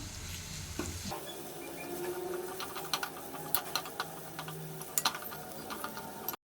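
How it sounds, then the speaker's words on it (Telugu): Ground onion and tamarind paste dropped into a hot pan with turmeric for bitter gourd pulusu, a soft sizzle followed by light, irregular ticks and clicks of stirring, quiet and close. "ఇప్పుడు ఇందులోనే మిక్సీ పట్టుకున్న ఆనియన్ అండ్ చింతపండు పేస్ట్ వేస్తున్నాను"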